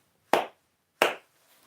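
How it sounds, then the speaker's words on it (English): Two sharp hand claps from one person, spaced about two thirds of a second apart, close and clear against near silence. "I'm gonna give myself some clapping"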